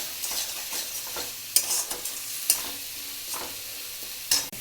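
Onion, garlic and tomato paste with cardamom, cinnamon and cloves being fried and stirred in a pan, with soft continuous sizzling broken by sharp scraping strokes of the spoon at irregular moments.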